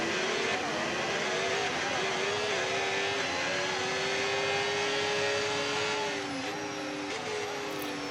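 Racing cars on the formation lap of a sprint race in a motorsport video game give off a continuous layered engine drone with a rising harmonic whine that holds steady for about eight seconds. No one speaks.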